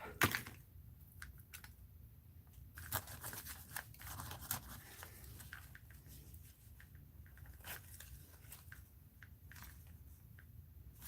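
Scissors trim material for a mixed-media art journal in a quiet room, with a run of soft, close snips and crisp cuts spread over several seconds.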